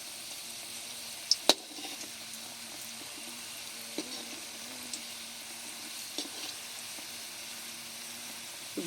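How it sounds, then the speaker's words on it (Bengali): Chhana rolls fry in desi ghee as they are turned on all sides, giving a steady, soft, close sizzle with a few sharp clicks and taps from the pan, and no voices. "এবারে আমি রোলগুলোকে একটু সব দিক ঘুরিয়ে ঘুরিয়ে ভেজে নেব"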